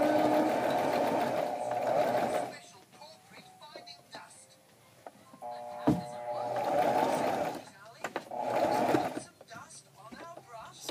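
A sewing machine stitches in short bursts while a junior boys' necktie is sewn and backstitched at the turns, its rapid hum stopping and restarting across the clip alongside fabric handling and talk.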